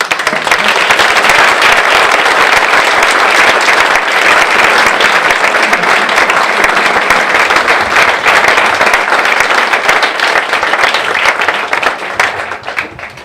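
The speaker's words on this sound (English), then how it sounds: "we all ought to have a nice round of applause for it" Audience applause at a library ribbon-cutting ceremony in West Falmouth, a loud, dense and steady round of clapping that fills the whole stretch and thins slightly at the very end.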